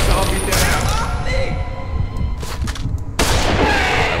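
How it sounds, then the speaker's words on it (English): A sniper rifle shot in the zombie puzzle game Containment cracks out loudly amid booming, mechanical game noise, with another sharp report near the end. "I wasted that sniper bullet."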